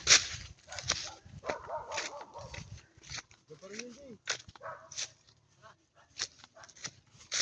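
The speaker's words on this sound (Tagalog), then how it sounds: "May aso eh." A dog barks and yips a few times outdoors on a nature trip, short scattered calls mixed with people talking and exclaiming nearby.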